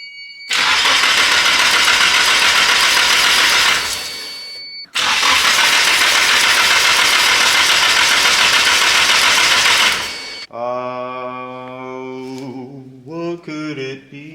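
A car engine with a MegaSquirt unit running a base map cranks in two long, loud bursts, then catches and briefly runs unevenly, revving and stumbling at close range.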